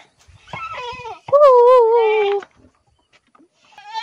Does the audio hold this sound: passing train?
no